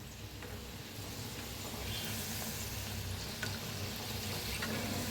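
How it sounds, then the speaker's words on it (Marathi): Samosas deep frying in hot oil over low gas, a continuous, even bubbling sizzle that holds steady and fairly close, with a faint tap partway through. "छान असं तळून घेऊया क्रिस्पी होईस्तोवर"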